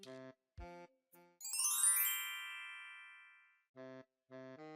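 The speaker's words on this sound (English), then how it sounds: "How long were you planning on ringing my doorbell?" A doorbell chime rings out with a long fading tone, framed by short bursts of electronic beeping tones before and after.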